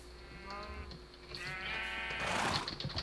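Sheep bleat repeatedly on a video game farm, several wavering calls rising over a steady background hum, growing louder and more overlapping toward the end.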